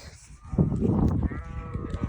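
A flock of goats bleating in the desert, several overlapping loud, nearby bleats in quick succession with a low rumble of activity beneath them.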